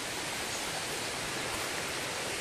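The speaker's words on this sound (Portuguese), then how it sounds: "Tá chegando na cachoeira." A waterfall near Caiapônia in the interior of Goiás roars close by as a dense, steady rush of falling water with no break and no voices.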